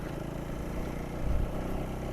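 A KTM ADV 390 adventure motorcycle, said to have a stalling issue, rides off-road with a steady low engine drone that swells briefly louder midway, without any talk.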